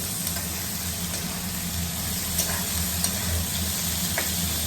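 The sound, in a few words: snake gourd frying in oil in a wok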